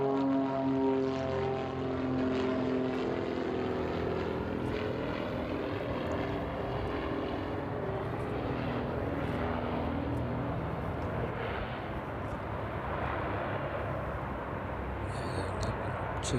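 An airliner touching down at East Midlands Airport, a steady, loud broadband jet roar with droning engine tones that holds throughout and slowly eases as the aircraft rolls out on the runway.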